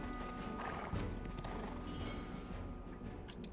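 Horse hooves clip-clop steadily in Black Desert Online, a close, even trot pattern sitting over a continuous game ambience with no voices.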